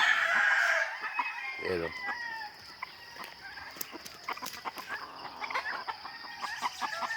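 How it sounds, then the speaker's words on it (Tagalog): Fighting roosters, gamecocks kept on a Filipino farm, crow and cluck in a loud opening burst, followed by scattered calls and clucks while someone speaks over them. "Meron din ako rito mga manok na panabong."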